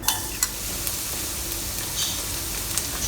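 Three cloves of chopped garlic frying in hot oil in a heated pan: a steady close sizzle with a few soft stirring ticks and clicks, no voices.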